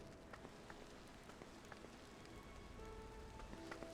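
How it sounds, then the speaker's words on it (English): Steady rain in the video game Final Fantasy XIV patters across the scene, a dense hiss with scattered droplet ticks, soft and continuous throughout. "Did it just start raining?"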